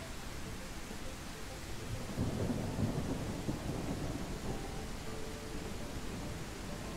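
A steady hiss of rain in the video game Rise of Gun, with a low rumble of thunder swelling in the middle, constant and moderately loud with no voices.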